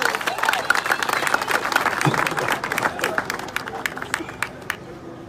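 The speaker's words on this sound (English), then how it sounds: "clap hands for Jesus" A church congregation claps hands for Jesus during a sermon, with a dense burst of clapping and crowd noise that gradually thins to scattered claps.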